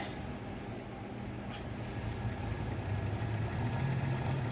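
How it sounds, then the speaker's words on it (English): A Sieg mini lathe's factory motor spins up at low voltage, a steady low hum and faint whir that grows slightly louder over a few seconds, with no talk. "if I take it up to 10 volts, you'll see over here the motor starts spinning"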